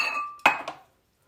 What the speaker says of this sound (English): So you just scoop it out with a spoon.